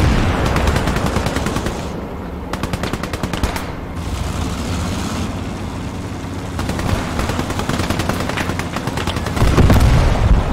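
Sustained World War II battle gunfire in Call to Arms Gates of Hell, dense rapid machine-gun bursts and rifle shots crackling continuously, with heavier booms swelling toward the end; no talk over it.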